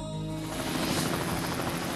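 A helicopter in flight gives a loud, steady, dense rotor and engine roar that fills the whole clip, with a fast chopping texture and no voices.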